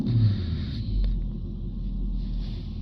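A Porsche Cayenne 4.2 V8 diesel with a high soot load in its particle filter holds a steady 2500 RPM, giving a low, even engine rumble heard from close by.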